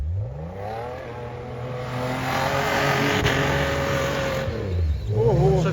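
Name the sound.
Lada Niva car driving up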